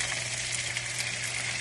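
A pound of precooked, ready-to-serve shrimp sizzles steadily in a skillet for jambalaya, a continuous close hiss with no voices.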